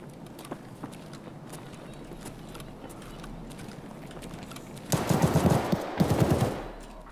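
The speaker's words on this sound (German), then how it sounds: "Ich hab einen mit der Pistole erschossen?" Pistol shots in the video game Escape from Tarkov, a short burst of sharp cracks near the end after a quieter stretch of background game ambience.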